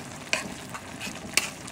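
Malunggay leaves and milkfish frying in a pan, a steady soft sizzle with a few light stirring scrapes and clinks.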